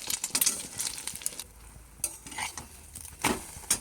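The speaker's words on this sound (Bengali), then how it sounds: "পেঁয়াজ কাঁচা লঙ্কা দিয়ে দিয়েছি, ডিমের অমলেট করছি।" An egg omelette with onion and green chili frying in a pan, soft sizzling broken by scattered clinks and scrapes of a spatula or utensil, close and fairly quiet.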